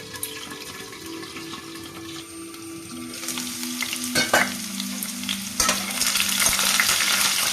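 Potatoes fry in a pan for a matar pulao, a steady close sizzle that swells louder partway through, joined by a few clinks and sharp utensil knocks, with no speech.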